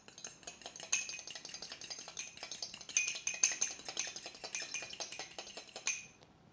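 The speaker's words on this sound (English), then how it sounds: "I'll crack it here and give it a little bit of a mix before I pop it into my bowl." An egg being beaten in a small container with quick, rhythmic tapping and clicking strokes that run steadily for about six seconds and then stop, close and fairly quiet.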